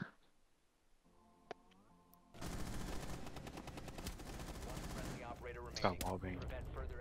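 Rainbow Six Siege gunfire shot through a wall, a sustained burst of rapid shots that starts suddenly after a quiet stretch with a faint tone and a single click, loud and dense, with a player voice calling out over it.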